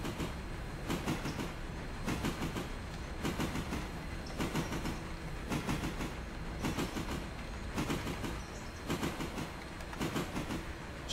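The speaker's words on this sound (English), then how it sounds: "I know that's a locomotive." A locomotive runs on the W&R line in the Railroader game, giving a steady clickety-clack of wheels over rail joints in regular grouped beats at moderate loudness.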